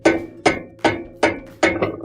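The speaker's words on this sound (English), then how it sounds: "We're going to get our adapter and our hammer again. And now we're just going to tighten this up nice and tight." A hammer strikes a metal adapter to tighten a washer's tub bearing part, five sharp, evenly spaced metallic blows close up, each ringing briefly before the next.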